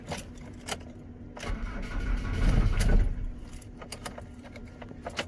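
A Rover 75 engine cranks and sputters roughly into life on a cold start, rising briefly before settling, with faint clicks around it; quiet and somewhat distant.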